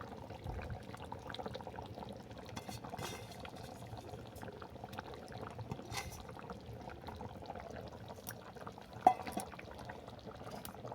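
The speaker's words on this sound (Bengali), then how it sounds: "এভাবে পাঁচ মিনিট ফুটতে থাক তারপরে এটাকে আরও পাঁচ মিনিটের জন্য ঢেকে দেবো" Chicken with kohlrabi simmers in a covered pot, a soft, steady bubbling and faint lid rattle running throughout, with one brief sharper clink near the end.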